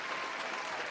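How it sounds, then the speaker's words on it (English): A room full of people claps and cheers for birthday celebrants during a live breakfast talk show, the applause dense and steady throughout without a break. "Round of applause for all of you all."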